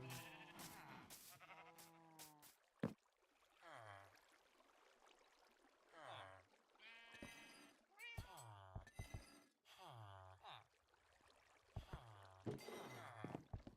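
Sheep in the video game Minecraft, kept in sheep farms, bleat again and again in short, nasal cries, close and clear, over quiet background game sounds.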